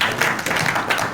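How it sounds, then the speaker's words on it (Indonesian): Short burst of applause from a media and influencer audience welcoming a laptop company executive on stage, steady dense clapping filling the whole moment at moderate volume. "Boleh kita berikan tepuk tangan ya"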